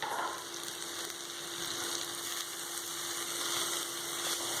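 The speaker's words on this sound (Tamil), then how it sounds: "வெங்காயத்தோட இந்த கீரையை தட்டிட்டு நல்லா கிண்டி விடுங்க." Spinach greens and onions frying together in a pan while being stirred for a spinach kootu, giving a steady, close, even sizzle with a faint hum running underneath and no voices.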